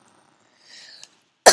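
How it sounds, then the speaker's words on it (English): A single sharp, loud cough bursts out at the very end. Quiet background sound comes before it. "Sorry, I have a bit of a cough."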